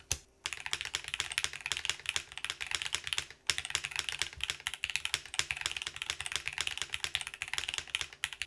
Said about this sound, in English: I mean, the keyboard does sound nice. It's very pleasant.